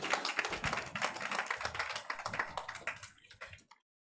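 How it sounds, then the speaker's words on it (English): Audience members at a regional innovation conference clap for a professor taking the stage, a brisk run of individual claps, fairly close and slightly uneven, stopping abruptly before the end. "Let's put our hands together for Prof as he comes."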